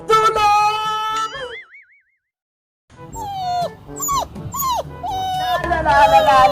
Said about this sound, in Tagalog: May aso! Sino kaya mayari nito?